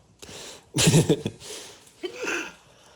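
A short, sharp sneeze burst, preceded by a faint breath, followed by a softer vocal sound.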